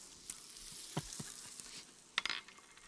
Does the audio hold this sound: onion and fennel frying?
yes